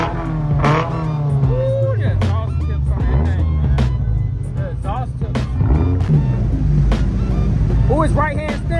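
A Dodge 392 V8 with right-hand steering, parked at a large Texas cars and coffee show, revs up under loud, overlapping crowd talk, its engine note rising and falling in close bursts.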